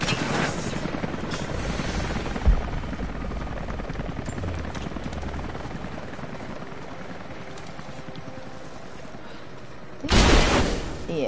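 Explosions and gunfire from an incoming attack in the video game Tomb Raider 2, a steady loud rumbling barrage with a sharp burst near the end.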